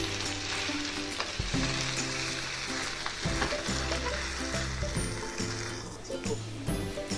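Gongura leaves sauté over a medium flame in a pan for a gongura and toor dal pickle, making a steady close sizzle with some stirring while a voice talks over it.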